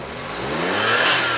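A turbocharged Mazda box car fitted with a Suzuki K6T engine revs up, its engine note climbing steadily and loudly over about a second, heard close.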